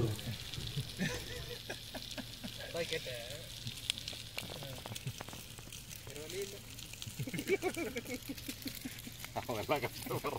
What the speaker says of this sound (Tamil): நம்ம ரெடிமேட் வாங்கி வந்து இங்கே வந்துட்டு ஃப்ரை பண்ணிகிட்ருக்கோம்